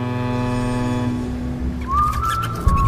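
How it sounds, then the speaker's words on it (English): A cartoon-style whistle tune from the Steamboat Willie style trailer for Screamboat, a clear rising tonal whistle entering late over a steady musical drone and background score. "The classic Steamboat Willie whistle."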